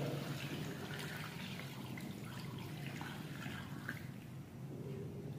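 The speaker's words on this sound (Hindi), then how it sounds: "ये तकरीबन 3 गिलास पानी है, ये ऐड कर लेंगे इसके अंदर।" About three glasses of water are poured into a cooking pot for chicken pulao, giving a faint, steady trickle and splash heard alone.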